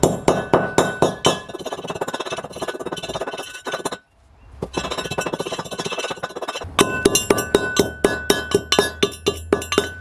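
A Stampie stamp mill re-crushing gold ore strikes in a fast, steady run of sharp metallic clanks, pauses briefly with a near-silent gap, then resumes its loud rhythmic pounding.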